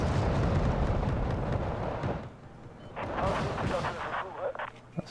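A Peace Rhine anti-tank missile from a video game strikes an SRV-121, a dense rumbling blast and crackle of battle fire filling the first two seconds, followed by quieter scattered impacts and distant gunfire.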